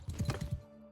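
Horse hooves thud in a quick uneven run of four or five beats through woods in a video game, close and fairly loud, then fade out abruptly.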